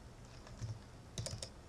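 Quiet keystrokes on a computer keyboard while a password is typed, a few soft taps followed by a quick cluster of clicks near the end, faint and alone.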